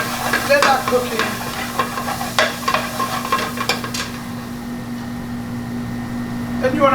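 Balti paste for a restaurant-style lamb balti fries and is stirred in a pan, a steady sizzle under scraping stirring strokes with a low hum of a kitchen fan behind.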